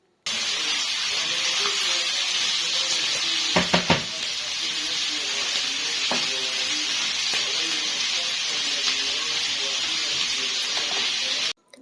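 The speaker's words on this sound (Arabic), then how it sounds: "بقلب بقى كده تقليبة زي ما انتوا شايفين برضو على درجة حرارة عالية" Chicken liver and gizzards stir-fried in a pan over high heat give a steady, loud sizzle throughout, with a few sharp clatters of stirring near the middle and no talking.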